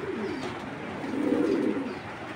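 A young 22-ring male racer pigeon coos close by, a soft throaty rolling call that swells briefly in the middle before fading.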